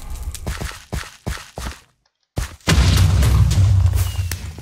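Explosions in the Minecraft Skywars video game, a rapid string of sharp booming bursts, then a short silence before a loud, sustained rumbling blast fills the rest.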